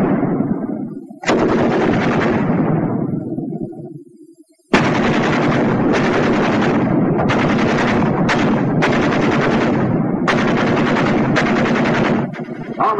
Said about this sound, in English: Ever hear of battle between two machine guns? They talk back and forth for a while